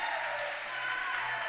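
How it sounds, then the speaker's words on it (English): A crowd at a trampolining competition applauds and cheers, a dense, steady wash of clapping from many hands throughout, with no distinct voices standing out. "the crowd's obviously cheering as one"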